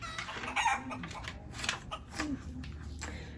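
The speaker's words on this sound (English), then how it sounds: "Coax the chicken to give you an egg." A chicken clucks in short, close bursts, with a louder squawk early on, over a steady low background rumble.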